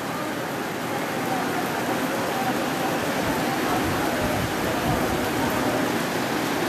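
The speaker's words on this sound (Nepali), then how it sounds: "पानी पऱ्यो म भित्र जान्छु" Steady rain falling outdoors, a dense, even hiss that holds at the same level from start to finish with no breaks.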